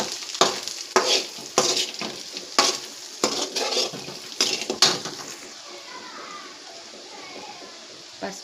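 Lightly fried onions stirred in a pan for egg noodles, a string of brisk scraping stirs over a soft sizzle that fades to a gentle hiss, with faint voices in the background.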